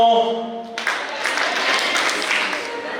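Audience clapping hands during a sing-along song, a dense wash of applause-like patter that cuts in after a brief sung tone and continues steadily at moderate loudness.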